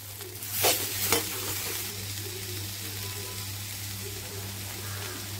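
Bitter gourd sautéing in a pan with salt for a stir-fry, a steady soft sizzle with two sharp scraping stirs near the start and a low hum throughout.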